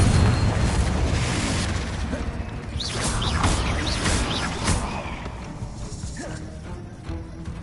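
Confringo blasting spell in Hogwarts Legacy, a dense rumbling explosion that fills the whole stretch with sustained booming noise and scattered crackles, loud and continuous.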